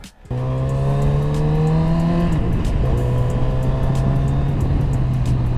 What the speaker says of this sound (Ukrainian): Тільки що я переключився без щеплення.